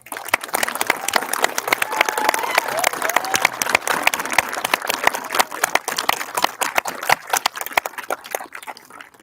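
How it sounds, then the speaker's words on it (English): Audience applause at a 2022 PTECH completion ceremony for graduating students, a steady patter of many hands clapping with sharp individual claps standing out, continuing at even strength throughout. "Please join me in giving them a final round of applause"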